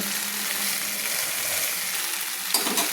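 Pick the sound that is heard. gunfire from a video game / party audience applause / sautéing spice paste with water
sautéing spice paste with water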